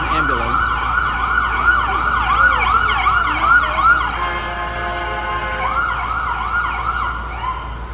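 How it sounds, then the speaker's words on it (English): An ambulance siren wails in loud repeating up-and-down sweeps on a busy New York City street, shifting to a different cycling pattern partway through, with traffic rumbling underneath. "What is that siren?"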